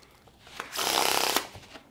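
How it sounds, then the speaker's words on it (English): Deck of playing cards riffle-shuffled once before a rummy game, a brief, close rapid fluttering burst with soft taps before and after. "We'll mix these cards up"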